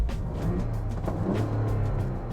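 The exhaust of a 2023 Ford Bronco Raptor in normal mode produces a steady low rumble with slight throttle swells, heard up close without any talk.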